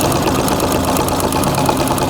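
A sewing machine stitches free motion quilting on feathers, a steady fast mechanical whir with rapid needle chatter running continuously and close.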